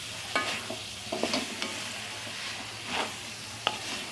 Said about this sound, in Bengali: এগুলো ভালো করে কষিয়ে নিচ্ছি